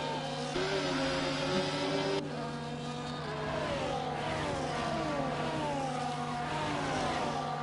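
Several racing cars in the F1 24 video game roar through the Monaco hairpin, a loud continuous engine wail with pitches sliding and overlapping as about eight cars pass in a pack.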